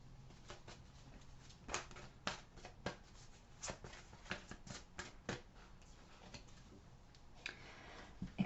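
Tarot cards being shuffled, a soft series of quick riffling clicks and flutters in irregular bursts, close and fairly quiet, with no talking.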